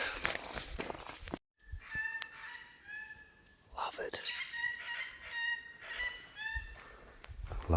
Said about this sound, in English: Love the sound of Currawong since I've been up the west coast. They're going off.